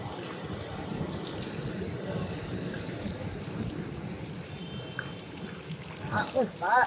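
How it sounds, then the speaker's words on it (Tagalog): Floodwater running through a Manila street makes a steady, dense rushing and splashing wash that stays loud throughout, with brief voices rising near the end. "Grabe yung baha dito guys, oh."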